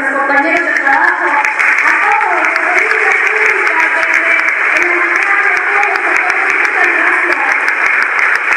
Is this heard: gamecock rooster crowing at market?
no